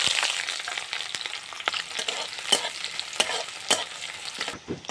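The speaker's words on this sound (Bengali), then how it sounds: "এবার আমি পেঁয়াজ আর কাঁচা লঙ্কা দিয়ে দেবো" Onions and green chillies fry in hot oil for beet fry with a soft sizzle, punctuated by repeated sharp scrapes and clicks of a spatula stirring close by.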